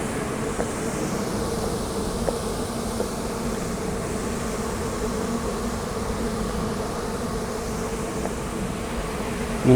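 Steady buzzing of bees swirling around a garden beetle trap, close and continuous throughout with a small bump near the end, no voices.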